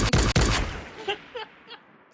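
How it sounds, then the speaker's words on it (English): A burst of gunfire sound effect, a loud rapid volley up front followed by a few fainter scattered shots trailing off, standing alone. "You get a gunshot."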